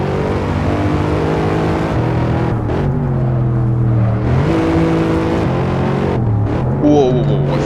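Civic engine in the Assetto Corsa racing game droning and revving through gear changes, a loud steady engine tone rising and falling in pitch throughout, with brief squeals near the end.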